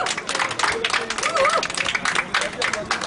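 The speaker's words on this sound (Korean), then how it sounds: "여러분 박수 부탁드리겠습니다." A crowd applauds at an outdoor alumni sports day on a school field, scattered clapping mixed with loud crowd noise and a voice, fairly close and continuous.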